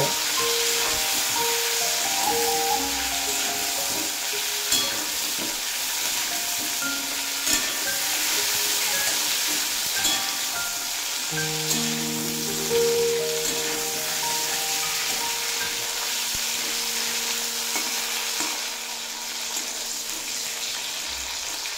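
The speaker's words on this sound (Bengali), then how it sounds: "এরপর এই তেলেই এড করে দেব ফুলকপি, দিয়ে মিডিয়াম ফ্লেমে রেখে খুব ভালোভাবে ভেজে নেব" Cauliflower frying in oil over a medium flame produces a dense, steady sizzle that holds loud and even throughout, with faint clinks and a tonal hum underneath.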